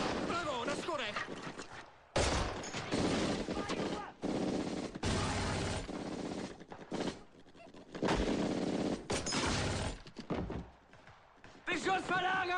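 Gunfire in Call of Duty 2 crackles in dense, loud bursts of rapid automatic shots with a few pauses, mixed with shouted voices in the thick of a battle.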